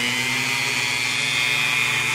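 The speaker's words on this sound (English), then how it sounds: "I may use this bit or the finer diamond engraving bit. And you don't need to run the rotary tool at full blast either." A rotary tool fitted with a fine diamond engraving bit etches the acrylic side window of a Corsair 200R midtower case, giving a steady high-pitched whine that holds close and constant throughout, with no talking.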